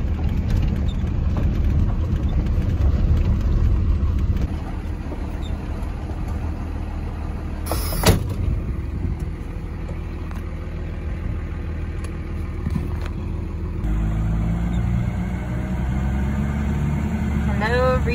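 Farm truck engine idling nearby, a steady low rumble with a brief sharp knock partway through, running on as the pitch settles lower near the end.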